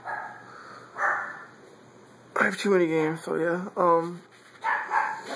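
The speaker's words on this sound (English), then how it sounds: "Sorry About the Dogs." Several sharp barks from dogs in a home interrupt someone speaking, with a cluster of loud, close, yelping barks in the middle and more toward the end.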